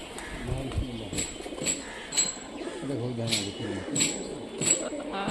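A flock of Rajshahi local racing pigeons makes low, repeated cooing outdoors, mixed with nearby voices and occasional sharper chirps in a busy open-air setting.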